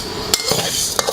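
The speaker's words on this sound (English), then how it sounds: "They're just in a dry, hot pan or wok. Just lightly toast these for a few minutes to give them a crispiness." Beans dry-toasting in a hot pan or wok for mango sticky rice, soft scraping and stirring with a few sharp clinks of a utensil against the pan, close and clear.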